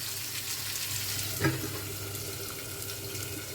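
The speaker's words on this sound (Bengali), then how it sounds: "আমি ঢাকা দিয়ে দিয়ে ভেজে নিচ্ছি" Pointed gourd (potol) frying in a covered pan for a dry potato-and-potol curry, a steady soft sizzle running throughout with one brief louder clink near the middle, no voices.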